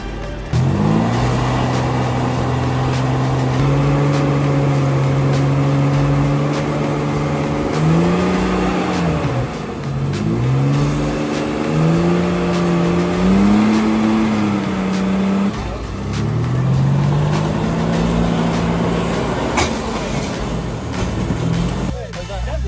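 A stock Jeep XJ off-roader straining on a trail, its engine revving up and down in repeated rising and falling pitches, loud and close, with voices talking over it.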